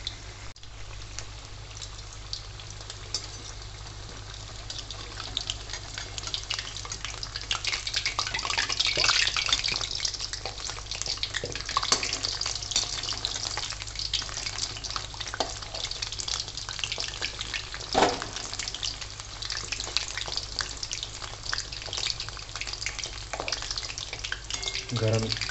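Onion fritters (kanda bhajji) sizzling in hot oil, a close, continuous bubbling fry with scraping stirs as they are turned with a slotted ladle, while someone talks throughout.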